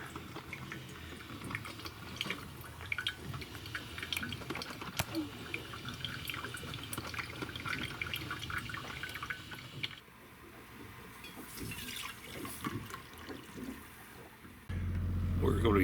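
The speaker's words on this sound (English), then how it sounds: "It's just the sound of the waves and the coffee maker," Coffee maker dripping steadily close by at a quiet waterside morning camp, with waves washing in the background; soft liquid trickles and drips run throughout, with a brief low rumble near the end.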